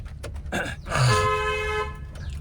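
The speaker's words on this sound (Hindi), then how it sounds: "एक बार लंबा हॉर्न बजा दीजिए" A long, loud car horn blares for about a second at a blind left turn, steady and close, after some brief clatter and background noise.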